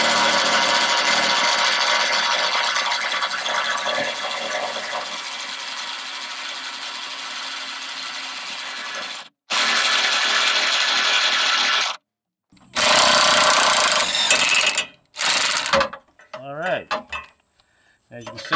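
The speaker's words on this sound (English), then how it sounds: "we're going to go ahead and use my electric impact wrench here" Electric impact wrench removing transmission bolts on a 2002 Xterra 4x4 with a 3.3 engine: loud sustained buzzing whirr, then short separate bursts with abrupt stops between them.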